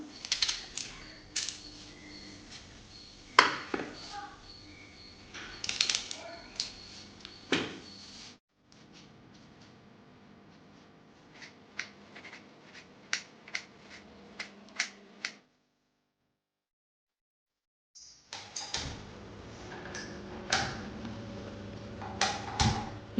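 A knife chops onions on a cutting board in a village kitchen, a run of sharp, uneven taps close by, broken by a short gap and a longer silence before the chopping starts again.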